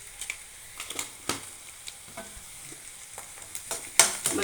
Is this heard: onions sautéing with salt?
yes